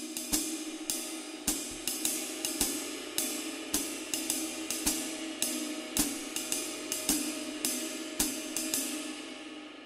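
Jazz ride cymbal playing a steady swing pattern with an added eighth note at the end of each bar: bright, washy pings repeating evenly over a sustained shimmer, close and loud.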